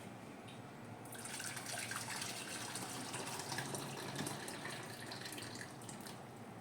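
Water pours steadily into a container for a fish marinade, a continuous splashing gush starting after a second and running without a break.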